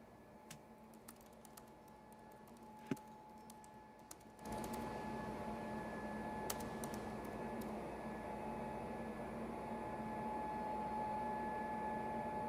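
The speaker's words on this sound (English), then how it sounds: "Ariane, we can hear you typing on a laptop, by the way." Faint, sparse key taps click on a laptop keyboard over a quiet background, then a steady hiss rises and mostly covers them.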